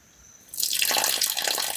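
Pond water drawn for a pH test is poured off from a small sample container, a steady splashing stream that starts abruptly after a brief quiet moment and runs on close and clear.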